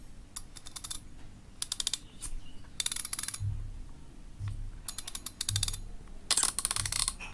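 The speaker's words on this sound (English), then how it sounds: "There's a drag sound." The drag clicker on a PENN Pursuit IV 6000 spinning reel ratchets in crisp, fast bursts of clicks, several separate runs with soft mechanical clunks between them, close and fairly quiet.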